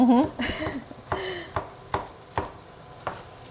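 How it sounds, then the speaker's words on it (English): Bacon cooking in a pan: a soft background sizzle broken by a series of sharp utensil clacks and scrapes against the pan, roughly evenly spaced, with a brief voice-like sound at the start. "while the bacon is cooking"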